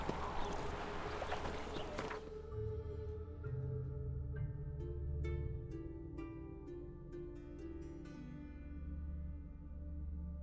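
Horse hooves clip-clop at a steady walking rhythm in the video game The Witcher 3, sitting under game music with no talk.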